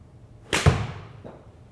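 A single sharp impact of a golf iron striking the ball, crisp and fairly close, followed by a quick fade in otherwise quiet surroundings.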